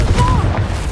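A Confringo spell explosion in Hogwarts Legacy lands as a single low, heavy boom with a brief rumbling tail and a faint whistling streak, close and loud.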